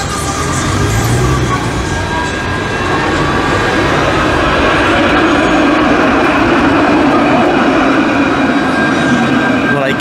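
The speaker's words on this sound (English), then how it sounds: "there's a tram, you know, very nice looking tram" A tram runs along city tracks in Dijon, France, with a steady loud rumble and faint wheel squeal filling the whole stretch, with a voice talking over it.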